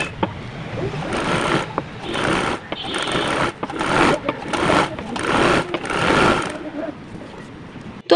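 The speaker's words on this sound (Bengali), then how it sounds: "এটাকে আমি সেলাই করে নিব।" A sewing machine stitches the side seam of fabric for a piping neck on a kameez, running in steady bursts with brief pauses, fairly close and loud, with no talk over it.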